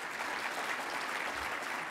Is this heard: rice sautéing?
no